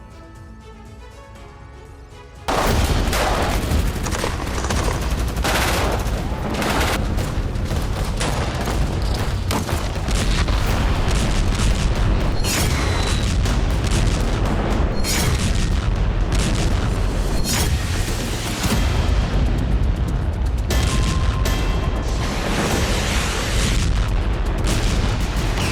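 Heavy shelling and explosions in fighting between Israel and Hezbollah, with a sudden onset of dense, continuous rumbling booms and repeated sharp blasts that stay loud and overlapping for more than twenty seconds.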